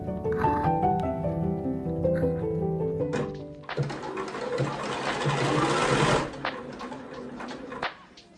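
A sewing machine whirs steadily as it stitches a thrift-flip blanket coat, a sustained mechanical run of about two and a half seconds that follows a stretch of music and then stops.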